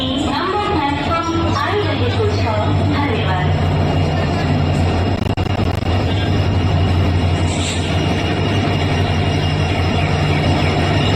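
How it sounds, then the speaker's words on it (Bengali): A long-distance passenger train pulling into a station, a low steady rumble and hum rolling near and loud, with people talking over it. "ফাইনালি আসছে ট্রেনটা।"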